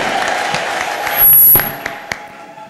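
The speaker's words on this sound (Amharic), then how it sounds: "ጌታ ለኢየሱስ ክርስቶስ እልልታ ጭብጨባ ስጡና ቁጭ በሉ" Church congregation in Ethiopia clapping and ululating together, a dense burst of applause with a high shrill ululation swelling in the middle, then tapering to scattered claps and thumps.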